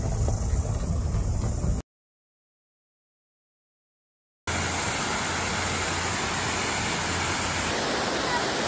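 A New Zealand waterfall roars as steady broadband rushing water. It cuts to silence for a few seconds and then returns, loud and continuous, with a faint high tone above it.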